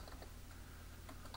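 Rapid keystrokes on a computer keyboard while entering a Linux terminal command, quiet close clicks in an irregular run with no talking.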